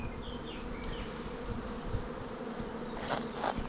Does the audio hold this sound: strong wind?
no